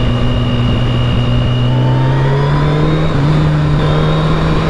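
Sport touring motorcycle engine, an FJR1300 or ST1300, droning loudly and steadily while riding, its pitch slowly rising as it pulls harder, with wind noise running underneath.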